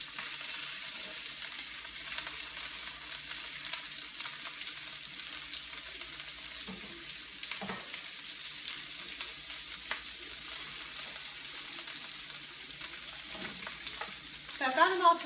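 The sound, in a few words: meatballs browning and sizzling in a pan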